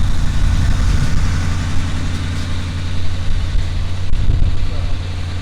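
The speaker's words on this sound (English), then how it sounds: "we're gonna put another Gladiator on the front, and we'll see if we can skid this out of here" A Jeep Gladiator engine rumbles loudly and steadily up close while hooked up to drag a stuck vehicle free on rocky ground, with brief surges in the low drone.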